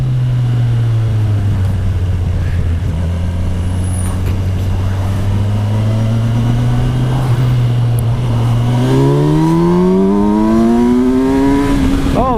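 A Kawasaki Versys 1000 SE GT motorcycle pulls away and accelerates, its close, loud engine note holding low and steady before climbing sharply in pitch toward the end.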